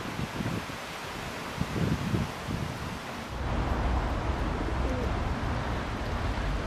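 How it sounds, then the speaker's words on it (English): Pigeons beside a city canal coo softly in low, repeated murmurs, then steady wind and rustling noise take over with no talking. "Now then, what are these pigeons up to?"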